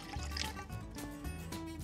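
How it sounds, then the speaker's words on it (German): Lukewarm water is poured into a mixing bowl already holding eggs and salt, as the base for a spätzle batter. The short, faint liquid splashing and trickling lasts under two seconds. "Dazu gieße ich noch das lauwarme Wasser."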